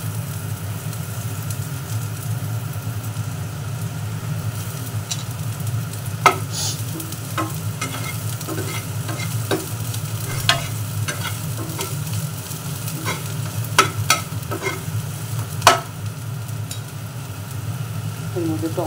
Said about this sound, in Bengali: কড়াটার মধ্যে আমি পেঁয়াজ দিয়ে দিব।